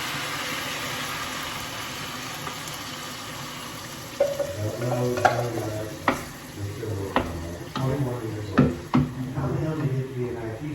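Coconut milk goes into a pan of simmering chicken curry, with a steady low sizzle and bubbling broken by several sharp clanks and scrapes of a spoon stirring the pot.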